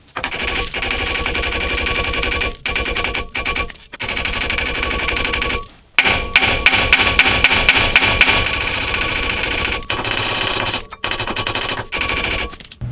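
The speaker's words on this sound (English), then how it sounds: "give it a couple whacks with a hammer and see if this ball joint will separate from the knuckle" Repeated hammer blows strike the steering knuckle of a 100 Series Toyota Land Cruiser (Lexus LX470) to free the lower ball joint, landing as rapid bursts of sharp metallic whacks with short pauses between runs.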